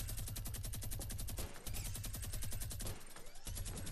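A minigun in Fortnite fires in long rapid bursts, a dense stream of shots with two brief pauses, loud and close with no talking.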